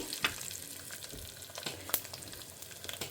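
Mustard seeds splutter and pop in hot oil in a home kitchen, with sharp irregular crackles over a quiet sizzle, close and fairly soft.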